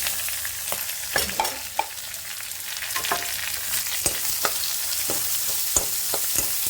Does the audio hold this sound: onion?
yes